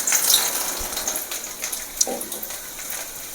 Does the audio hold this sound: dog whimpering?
no